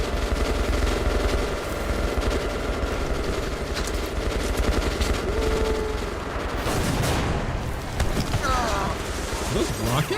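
Rapid automatic gunfire from a video game combat scene sounds through dense, continuous battle noise, with bursts and booms layered together at steady loudness and a voice talking over the action.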